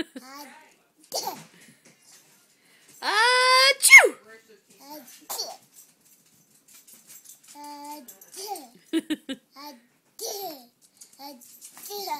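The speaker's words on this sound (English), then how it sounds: "Sneezing." A small child fakes a series of sneezes, with a loud, drawn-out voiced burst in the middle, then playful babbling and short vocal sounds up close, alone in a quiet room.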